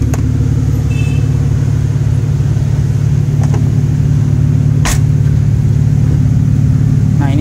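A 2006 prefacelift BMW 325i E90 with a replaced muffler runs with a deep, steady exhaust drone and low engine hum, loud and close, with a couple of brief clicks and no talking.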